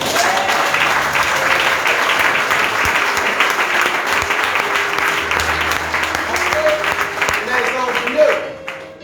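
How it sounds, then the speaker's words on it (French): A church audience at a sermon applauds loudly and continuously, dense clapping filling the space while a voice speaks over it and whistles rise near the end. "On devait quand même acclamer, s'il vous plaît."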